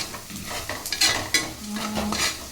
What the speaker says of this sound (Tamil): ப்ரௌனாக இன்னும் கூட கொஞ்சம் வதக்கினா நல்லாயிருக்கும்